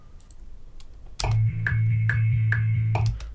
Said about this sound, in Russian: Понадобятся звуки метронома.